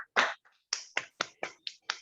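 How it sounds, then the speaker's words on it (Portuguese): A handful of separate, evenly spaced hand claps, about seven sharp slaps close by with short gaps between them, after a lecture on women in wars; no voices are heard. "Uma salva de palmas a todos."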